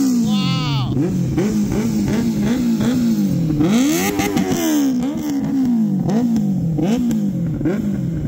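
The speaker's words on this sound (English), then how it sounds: "now I'm going to show you the Excel exhaust or Benelli 600i" A Benelli 600i motorcycle with an aftermarket exhaust revs loudly nearby in repeated rising and falling bursts, with a rough, throaty engine note and some voices in the background.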